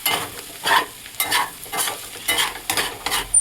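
A spatula stirs potato fry in a hot pan, repeated scraping strokes in bursts about every half second over a low sizzle, close and fairly loud.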